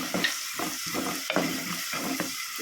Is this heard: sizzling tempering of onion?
yes